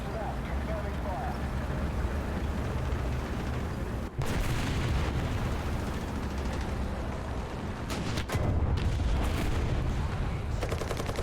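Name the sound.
artillery fire in Heroes & Generals video game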